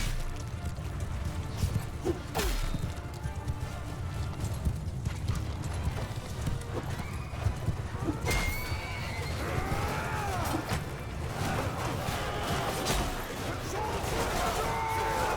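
Cavalry horses in the Mount & Blade II Bannerlord battle game thunder along in steady clip-clopping hoofbeats, with occasional neighs and battle noise, while someone talks over them.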